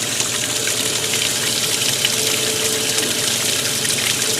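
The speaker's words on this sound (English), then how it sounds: "this one is doing its warm rinse" A washing machine fills with water for a warm rinse, a steady, close rush of gushing water with a faint pump hum underneath, unbroken and without any speech.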